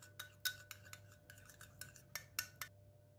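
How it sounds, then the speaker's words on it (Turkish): A utensil stirs oil and red pepper powder in a bowl, producing a series of quiet, irregular clinks and scrapes against the bowl in a quiet room. "Bunu şöyle güzelce bir karıştıralım"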